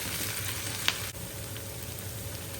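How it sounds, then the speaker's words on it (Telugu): Leafy greens frying in a pan, a steady dense sizzle with a few brief clicks and scrapes, no voices. "ఇప్పుడు ఇది బాగా ఫ్రై చేసేసుకున్నామండి"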